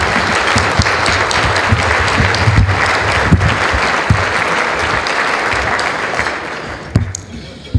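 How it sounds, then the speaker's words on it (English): Sustained applause from a large audience at a city government State of the City event in Portsmouth, Virginia, steady and dense for several seconds with a few sharper claps and some voices mixed in, then thinning near the end. "Please join me in a round of applause for our distinguished guests."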